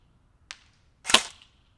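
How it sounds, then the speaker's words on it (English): A JG full-metal AK AMD-65 airsoft rifle fires two sharp semi-automatic shots outdoors, a quick crack followed by a louder snap about half a second later, with quiet between. "so we're going to send a few shots of semi-automatic"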